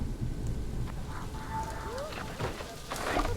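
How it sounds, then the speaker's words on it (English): Steady rain falls in the Planet Zoo video game, a soft continuous hiss with a few faint tonal blips and chimes over it, fairly quiet throughout. "And it started raining"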